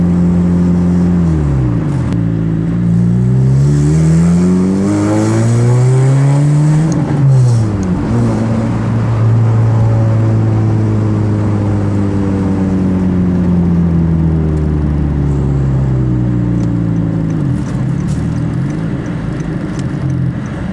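A custom Honda Fit 3 with an aftermarket exhaust muffler revs up and down, its engine note sweeping through rising and falling pitches, loud and close, with a steady rumbling drone in between.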